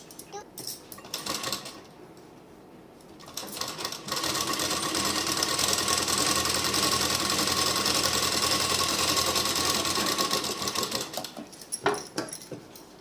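A sewing machine runs steadily for several seconds, stitching the lining into a suit sleeve, a close continuous whirring hum with softer handling noises before and after.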